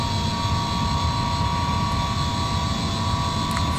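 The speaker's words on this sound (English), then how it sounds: "Looks like I got my second engine up and running with the heat blur there" A McDonnell F2H-2 Banshee jet's second engine spooling up in a flight simulator, a steady loud whine and roar with a constant high tone holding evenly throughout.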